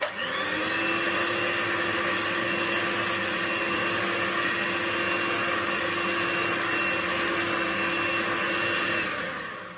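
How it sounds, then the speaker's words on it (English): Steady electric mixer whirring at a fairly high speed as it whisks egg white and sugar for lemon macarons, a continuous motor drone held evenly for the whole stretch with no talk over it. "on a nice gentle speed, unfortunately my mixer's sort of like quite high anyway"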